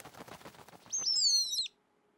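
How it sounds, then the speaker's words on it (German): A bird in a studio gives a short burst of several high, sliding chirps, close and clear, after a brief patch of soft clicking and rustling. "Du wolltest doch bestimmt sagen, Beni hat einen Vogel im Studio, oder?"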